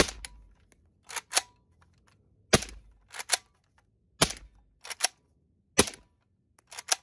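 A suppressed Galil rifle fitted with a .30 caliber can fires a series of sharp, clipped reports, mostly singles and quick pairs spaced about a second or more apart, loud and close with quiet gaps between.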